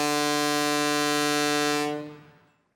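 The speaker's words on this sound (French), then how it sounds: "Attention, Rouli, le sifflet n'est pas un jouet." A boat's whistle in a cartoon blows one long, loud, steady note that holds for about two seconds, then cuts off and fades out with no talk.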